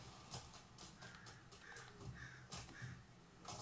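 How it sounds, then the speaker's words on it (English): A crow caws repeatedly outside a window in bursts that come and go, faint and distant over steady background sound. "crow making a lot of noise outside my window."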